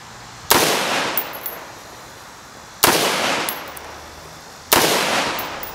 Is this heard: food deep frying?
no